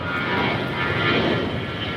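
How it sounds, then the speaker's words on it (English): An Avianca passenger jet takes off from LAX with a steady, loud and broad engine roar that holds without a break for the whole moment. "Avianca 523 taking off to San Salvador."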